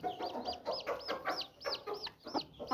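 Chickens and roosters, some of them larger black cocks, cluck in a fast, regular series of sharp calls, about a dozen in under three seconds, fairly faint and with no talking over them.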